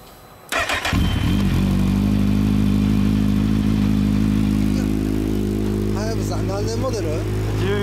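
A 2014 Kawasaki Ninja 1000 with a non-US Yoshimura exhaust starts up with a sudden catch, then settles into a steady, deep, rumbling idle close by, and voices talk over it toward the end.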